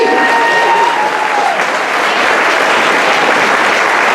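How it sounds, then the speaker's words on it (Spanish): A church congregation claps loudly and steadily for several seconds, a dense wash of applause filling the room, with a brief musical tone fading early on. "¿Cuántos le dan un fuerte aplauso al Señor?"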